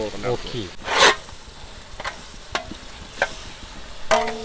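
Ginger garlic paste fried in a large pot for goat biryani, low sizzling with scattered ladle scrapes and knocks, a brief voice at the start.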